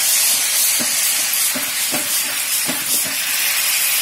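Garlic cooks with white wine in a pan, giving a loud, steady close hiss and sizzle with a few soft utensil taps scattered through, and no talk.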